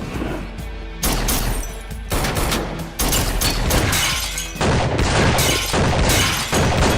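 Gunfire in a film shootout fight scene, loud sharp bursts of shots and crashes arriving in several distinct volleys separated by brief gaps, harsh and close.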